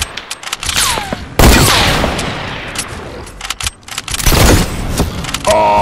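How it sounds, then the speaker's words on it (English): Gunfire in the video game Fortnite, with loud rapid bursts and single sharp shots coming in clusters, along with mechanical clicks and whirs, close and punchy throughout. "Shooting towards ya!"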